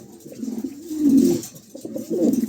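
A pair of Beauty pigeons at a bird market cooing nearby in low, throaty, swelling coos, with two stronger bursts rising over a soft background murmur.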